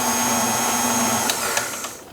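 An electric mixer whirs steadily as it blends baking soda, salt and softened butter, a continuous motor hum that dies down near the end while a few light clicks sound.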